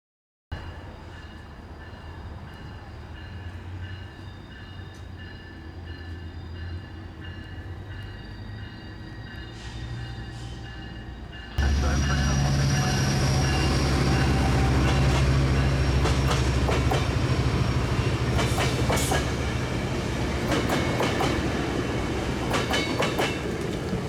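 Trains pass through Fullerton station, Metrolink commuter and BNSF freight, starting with a low distant rumble before a loud, sustained roar of wheels and rail clatter takes over abruptly and continues close by.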